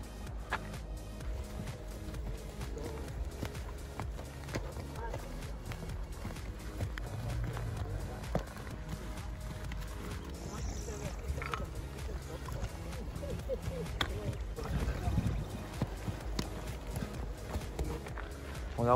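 A white horse walks along a Via de la Plata pilgrimage trail in Spain, its hooves clip-clopping in a steady, moderately close rhythm amid outdoor ambience, with faint voices now and then.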